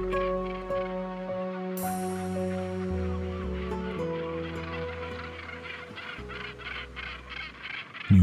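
Northern gannets in a busy nesting colony give loud, harsh, repeated calling as a pair greets each other, the cries overlapping in rhythmic bursts over a steady backdrop of many other birds, with no speech.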